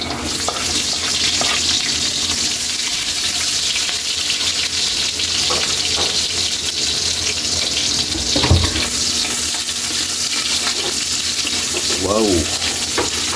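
Sliced onions sizzle and fry steadily in hot oil in a pan while cooking lomi, a continuous loud crackle with a few brief knocks and a short spoken exclamation.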